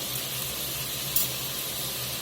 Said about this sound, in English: We're going to bring this up to a nice little simmer for about 10-15 minutes, rehydrate them peppers